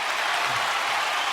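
Round of applause sound effect triggered from a button, a brief dense burst of crowd clapping, loud and steady with no talking.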